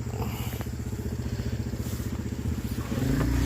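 Arctic Cat Wildcat 1000X UTV with upgraded exhaust and clutch idles with a steady, loud rumbling putter that swells slightly louder near the end, with no talk over it.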